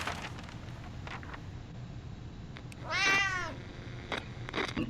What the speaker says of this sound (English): Cat doesn't sound like it's too happy